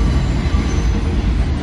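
A train rumbles by on elevated tracks in the Bronx, a loud continuous roar of wheels and rail noise filling the air close by, with no voices.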